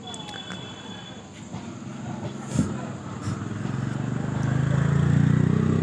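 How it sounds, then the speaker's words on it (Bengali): A passenger train slows as it pulls into Diamond Harbour, with a steady rumbling roll and faint wheel clatter that swells toward the end, heard from on board with a brief clack midway. "ট্রেনটার গতি কমে গেছে"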